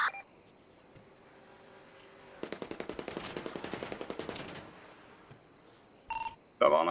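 A burst of rapid automatic gunfire in a video game rattles for about two seconds at moderate distance. Brief sharp electronic game sounds come before and after it over a quiet background.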